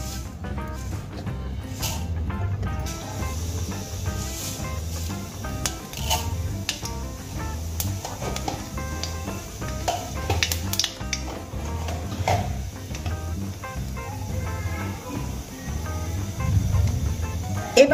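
A pinch of black cumin seeds sizzles in hot oil in a wok, a light crackling hiss over a low background hum, with scattered sharp ticks and pops.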